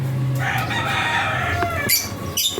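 Hen and rooster clucking and crowing up close, loud and continuous, with a short burst of crowing and sharp clucks near the end, no talk over them.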